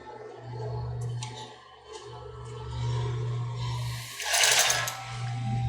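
Sewing machine stitching the other side of a padded bra, a close motor whir running in short bursts with brief pauses between them, plus some fabric rustling.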